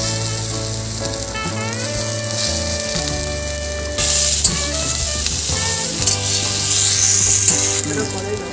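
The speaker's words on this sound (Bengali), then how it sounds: "সময় ধরে সাঁতরাতে হবে ভালো করে এবার আমি ছাড়বো পেঁপেটা" Green papaya sautés in hot oil in a wok for Bengali shukto, a steady hissing sizzle with occasional stirring scrapes, heard under loud sustained background music.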